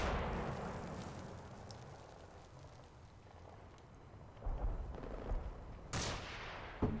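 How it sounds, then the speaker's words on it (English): Gunfire in the video game Combat Mission Black Sea, with a sniper rifle shot among a distant, low rumbling battle bed; sharp reports crack out near the end, including one loud, bright shot around the six-second mark. "That's definitely a sniper rifle."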